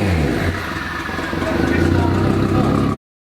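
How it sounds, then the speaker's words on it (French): A Lamborghini engine idling unevenly, its uneven, rough mid-range running continuing steadily for a few seconds before cutting off abruptly. "Il a commencé à tourner de manière irrégulière et à fumer beaucoup du côté gauche du moteur."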